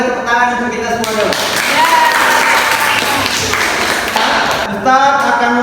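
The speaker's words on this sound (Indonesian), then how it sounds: "Boleh tepuk tangan untuk kita semua dulu." A classroom group claps together in a burst of applause lasting a few seconds, dense and close, with speech from the teacher before and after.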